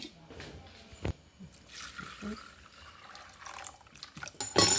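Soaked chana dal is rinsed with water in a kitchen, with tap water splashing and sloshing in short bursts, a sharp clink partway through and a louder gush at the end.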